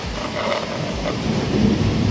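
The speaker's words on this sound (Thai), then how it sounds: "เอาฟ้าร้องแล้ว" A low rumble of thunder rolls continuously with a soft hiss like rain over it, moderately loud and building slightly toward the end, with no talk.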